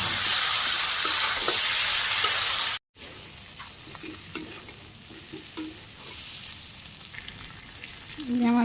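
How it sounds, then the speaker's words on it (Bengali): Chicken meat sautéed in a pan in a Bangladeshi village kitchen gives a steady loud sizzle with scraping stir strokes, briefly cutting out before the frying continues. "মাংসটা ভালো করে এখন কষিয়ে নিই"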